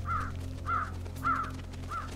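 Crows caw in the video game Trüberbrook, four harsh calls evenly spaced over a low steady hum, fairly close and with no voices.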